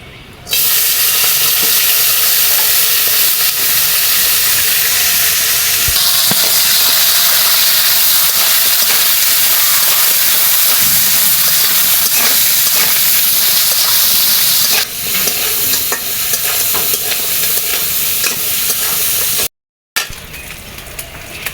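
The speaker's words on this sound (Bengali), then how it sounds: "এখন আমি কাঁকড়াগুলো বেজে নিব" Crabs seasoned with turmeric, chili powder and salt fry in a pan, producing a loud, sustained sizzling hiss with occasional stirring bumps and a brief cut near the end.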